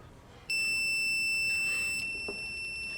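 A contestant's buzzer at a school science and maths quiz competition sounds one steady, loud electronic tone that cuts in suddenly and holds for the rest of the moment over a quiet hall.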